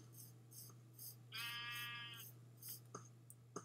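A Minecraft sheep gives one clear, wavering bleat, with faint clicks and game noises around it over a steady low hum; no talk.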